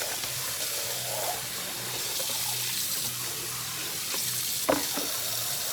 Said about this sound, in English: So empty that out, rinse my bowl.